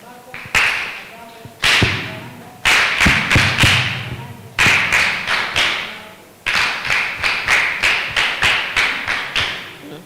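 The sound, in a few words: audience clapping for a speaker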